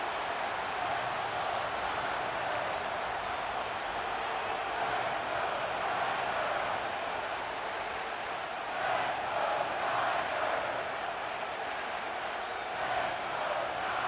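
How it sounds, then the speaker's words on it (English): A simulated stadium crowd in a Madden NFL 25 game between the New England Patriots and San Francisco 49ers roars in a steady, distant-sounding wash of cheering that swells slightly near the end. "This crowd turning up the decibel level."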